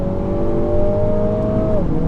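Car engine accelerating hard during an advanced driving exercise, a steady rising harmonic whine held close and loud, then dropping off near the end as the revs ease.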